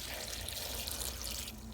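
Water is poured from a measuring cup onto orange and lemon peel in a stock pot, a short close splashing stream that runs steadily and cuts off at the end.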